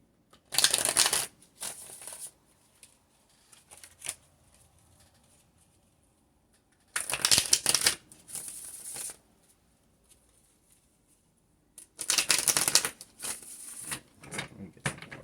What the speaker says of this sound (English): I'll shuffle some tarot cards before I ramble any longer